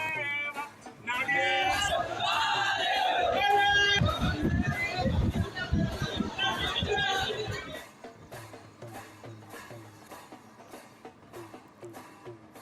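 A crowd of devotees at Aundha Nagnath temple on Mahashivratri gives a loud mix of overlapping voices, chanting and bustle for several seconds, then thins out. Over the quieter end, sharp rhythmic clicks or taps repeat steadily.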